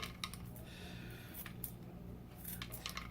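Chives are minced with a small handheld kitchen gadget, producing quiet, close snipping clicks and crunches in a loose irregular rhythm against near silence.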